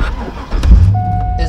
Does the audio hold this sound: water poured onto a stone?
no